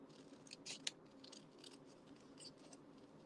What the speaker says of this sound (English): I'm just going to fussy cut around here